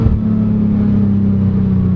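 A 2015 Hyundai Genesis Coupe with the 3.8L V6 at full throttle, the engine holding a loud, steady droning rev heard from inside the car, with no talk over it.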